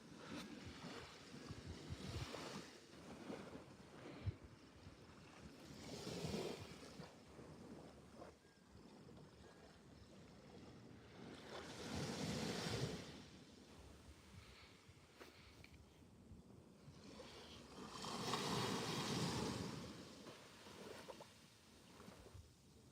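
Ocean waves on a Nova Scotia beach, slow swells of surf rising and falling about every six seconds, steady wind noise on the microphone underneath, no voices.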